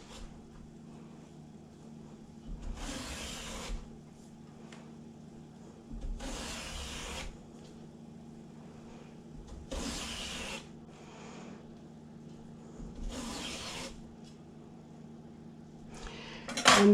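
Fresh zucchini being sliced into thin tagliatelle strips gives four evenly spaced rasping strokes, each a short scraping burst about three to four seconds apart, over a faint low background hum.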